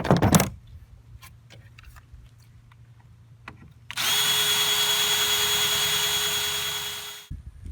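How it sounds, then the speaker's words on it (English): A power drill whirs steadily for a few seconds after a brief burst, drilling bolt holes while installing a floating dock, with scattered small clicks and knocks in the quiet before it. "I'm going to drop this off and drill those holes through."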